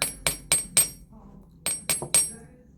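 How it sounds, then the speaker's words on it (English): Metallic hammer taps ringing on silver jewelry being textured with a slightly concave hammer face, four strikes in a steady rhythm, a pause, then four more, close and bright. "I'm using this slightly concave side of the hammer."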